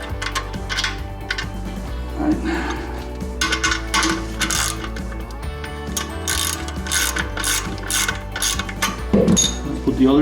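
A ratchet fitted with a deep socket clicks rapidly while tightening a toilet flange bolt, with repeated close ratcheting bursts and metallic rattles, loud and alone.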